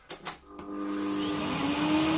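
A Hoover Sonix vacuum cleaner, refurbished, with tape on the hose, starts up after a few short bumps and settles into a steady, loud whirring drone with a rising high-pitched whine.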